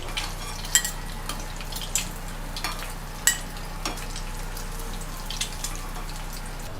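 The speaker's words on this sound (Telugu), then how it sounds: "ఇవి నూనెలో ఫ్రై అయిపోయినాయి" Eggs fry in oil in a pan for egg curry, with a low steady sizzle broken by sharp scattered clicks and spatters, close and moderately quiet.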